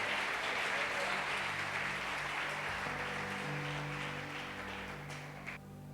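Church congregation clapping together, a broad steady wash of applause that tapers slightly toward the end, with sustained organ or keyboard tones and murmured voices underneath.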